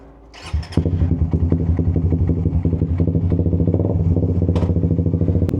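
Suzuki GSX 150 motorcycle engine starting up with a thump, then a close, loud, steady idle putter with rapid, even pulses and light mechanical clatter, heard on a quick shifter test run.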